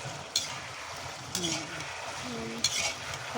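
Potatoes fry in a pan with salt and turmeric while a spoon stirs them, soft sizzling under a few distinct scrapes and clinks of the utensil against the pan.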